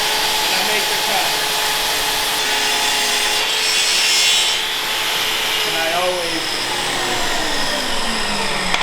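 A power saw cuts through a reclaimed hardwood table top, a steady loud whining rasp of blade in wood that swells midway and runs the full length with no pause, near and continuous.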